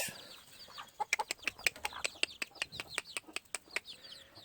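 An old hen with her ten chicks on a gamefowl farm, sharp clucks and chirps in a quick, uneven series close by, alone against a quiet yard.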